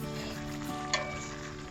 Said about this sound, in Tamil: இதில் நல்லா கொதிக்க எண்ணெய்லாம் அப்படியே விட்டுட்டே வருது சைடில்.